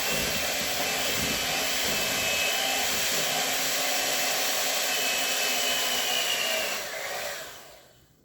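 An electric mixer beats Victoria sponge cake batter, a loud steady whirring drone close up that runs evenly and then winds down and stops near the end.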